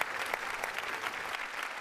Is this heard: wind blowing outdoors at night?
no